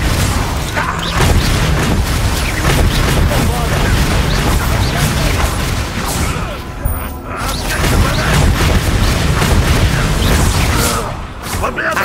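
Bombarda blasting spells exploding in Hogwarts Legacy gameplay, heavy booming blasts and crashing debris in rapid succession, loud and dense, with brief voices shouting spell names among them.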